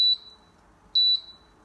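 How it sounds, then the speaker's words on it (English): Two short, high electronic beeps from a Pressure King Pro pressure cooker timer about a second apart, clear and close in an otherwise quiet room. "Once that minute is up, you will hear a beep."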